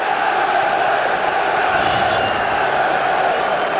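Large football stadium crowd at Old Trafford during a Premier League match between Manchester United and Chelsea, a steady dense roar from the stands with a slight swell of excitement.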